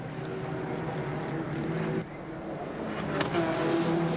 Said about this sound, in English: Looks like 2 cars have overshot there in the wet weather.